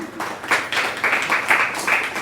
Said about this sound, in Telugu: ఒకసారి మీ అదృష్టానికి మీరే చప్పట్లు కొట్టుకోండి